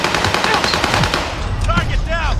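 Sustained automatic gunfire in Call of Duty Warzone, loud continuous bursts with overlapping shots and a few ricochet-like whines, dense and close throughout.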